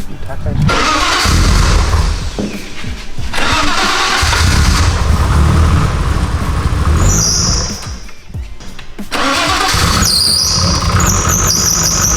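A Nissan GT-R fitted with an RB28 engine cranks on first start, sputtering and catching roughly. Two long, loud stretches of cranking and engine roar are broken by brief pauses, with a squeal rising near the end.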